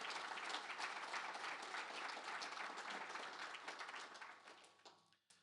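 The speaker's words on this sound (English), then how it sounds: "One more round of applause, please, for Jeremy." A conference audience applauds in a dense, sustained burst of clapping that carries evenly for several seconds, then thins out and fades near the end.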